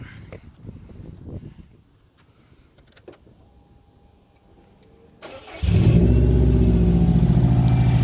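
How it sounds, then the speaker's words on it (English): Subaru WRX engine cranking briefly after quiet shuffling, then catching and settling into a loud, steady idle rumble, heard close up. "So I'm just going to go ahead and make sure I start her up."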